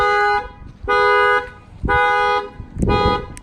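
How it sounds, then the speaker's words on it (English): A factory alarm on a 2018 Infiniti Q50, set off by its shock sensor, blares in loud steady tonal bursts, three long pulses followed by a shorter fourth, heard close by with no talking. "if anybody tries to bust out that keyhole or they try to take the rims and tires or they break another window next time, the alarm will go off"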